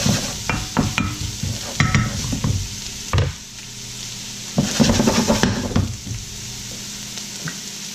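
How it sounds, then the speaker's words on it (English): Vegetables are sautéed in a hot pan for stuffed flounder, with bursts of loud sizzling, scraping stirs and metallic pan clatter, pausing briefly before resuming close by. "Gonna saute those."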